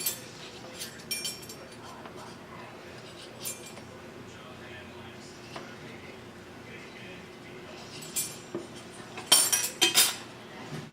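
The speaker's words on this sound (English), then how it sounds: "So we're gonna go ahead and just stir in lightly 3 tablespoons of heavy cream." A spoon stirring heavy cream into a mustard sauce in a home kitchen, with light scrapes and scattered metallic clinks against the bowl that sharpen into a brighter rattle near the end.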